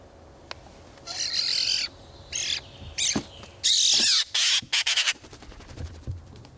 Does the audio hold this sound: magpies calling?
yes